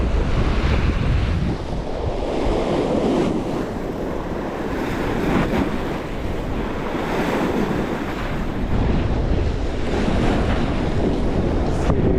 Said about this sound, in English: it looks like it's very windy.